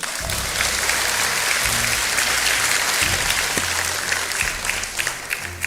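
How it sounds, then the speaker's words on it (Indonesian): Steady, dense applause from a large crowd at a political party speech fills the space, loud and sustained throughout with faint voices underneath. "Tepuk tangan dulu dong."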